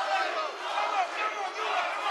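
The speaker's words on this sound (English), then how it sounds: "And you hear the crowd chanting." Crowd at a fight between Guyla Bus and Mark Hodgeson, a steady dense roar of many voices chanting and shouting, continuous and fairly loud throughout.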